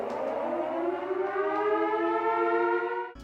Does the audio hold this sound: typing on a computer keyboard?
no